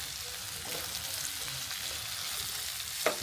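Chopped onions frying in a pan with white and black cardamom and cinnamon, a steady bright sizzle under stirring, with one sharp scrape of the spoon near the end and no talk.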